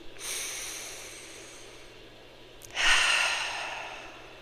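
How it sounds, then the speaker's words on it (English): A person takes a slow, deep breath during a calm guided pause, a soft airy inhale followed by a stronger, breathy exhale that fades out, heard alone with no talking. "let's pause here for a breath"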